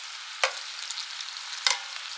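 Chicken cooking in a skillet on medium-high heat, giving a soft, continuous sizzle with two sharp clinks of a utensil against the pan, close and without speech.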